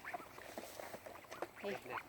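Mixed-breed ducks let out a few close, raspy quacks over about two seconds, with people talking nearby.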